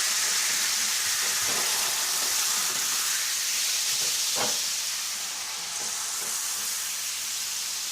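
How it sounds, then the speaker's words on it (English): Wine sizzles and hisses loudly as it hits the hot pan used for Parmesan-crusted pork chops, a steady bright fizz with a few faint clinks of a utensil scraping the bottom. "We're going to use the wine to glaze the pan"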